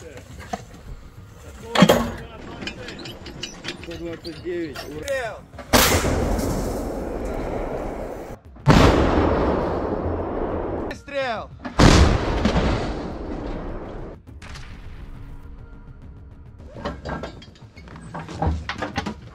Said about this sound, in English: Выстрел! Орудие! Выстрел!